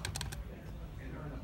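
Keys on a light-up computer keyboard are pressed in a short burst of three or four crisp clicks near the start, followed by low background noise.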